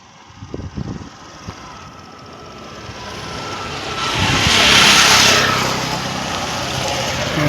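Car engine during a driving lesson, starting with a few low bumps and thuds, then a steady hum that swells into a louder rising whoosh at the midpoint before easing off, close and without talk.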